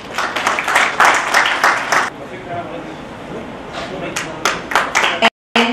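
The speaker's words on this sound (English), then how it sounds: "I'd like to invite Mr. Johnson De Silva with the really good round of applause." At a presentation event, an audience claps in a brisk burst of applause that fades. A quieter stretch follows, then clapping picks up again toward the end, heard fairly close.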